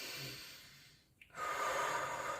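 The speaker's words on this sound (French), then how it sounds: "on va quand même prendre une grande inspiration" A single deep breath is drawn in sharply through the nose, a brief airy rush following a quiet pause, close to the microphone with no talking.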